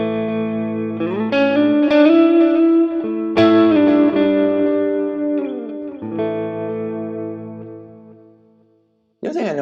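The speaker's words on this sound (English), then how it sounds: "he's got this tremolo on it with a very shallow depth" Electric guitar chords through a Quad Cortex preset ring out with a subtle, shallow tremolo pulsing in the sustain, several strums decaying into near silence.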